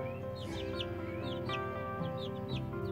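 Young chickens in a new coop cluck and peep in short repeated calls over a steady background hum, fairly quiet and close.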